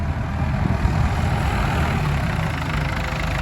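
Steady low idle of a Ford 6810 tractor with a turbocharged four-cylinder engine, a close, even rumble running unbroken from start to finish with no talking.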